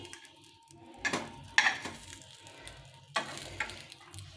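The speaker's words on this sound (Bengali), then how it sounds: "তা আমি এই আপ্পাম প্যানে ছোটো ছোটো বলের মতো করে ভেজে নিলাম।" Small balls of Gobindobhog rice flour fry in an appam pan with a soft, quiet sizzle, broken by a few sharp clicks and taps of a utensil against the pan.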